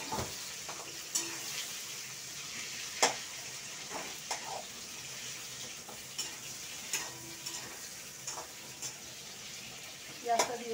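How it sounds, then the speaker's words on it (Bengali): Onion frying with browned potatoes in a pan, giving a faint, even sizzle broken by scattered scraping clicks of a spoon stirring against the pan. "এবার আমি পেঁয়াজটাও দিয়ে দেবো।"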